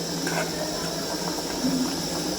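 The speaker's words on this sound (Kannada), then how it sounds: "ಹುಣಸೆಹಣ್ಣು ಹುಳಿ ಚೆನ್ನಾಗಿರುತ್ತೆ ಹುಳಿ ಸಾಂಬಾರಿಗೆ ಅಂತ ಕುಡಿತಾ ಇದೆ" Tamarind sambar simmering in a pot, giving a steady, soft bubbling hiss with faint pops throughout, fairly close and even in level, no talk.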